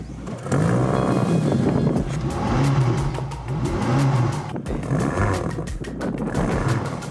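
A BMW XM's 4.4-litre twin-turbo V8 revs hard from inside the cabin, rising and falling in repeated loud surges with a deep rumbling roar and brief dips between pulls.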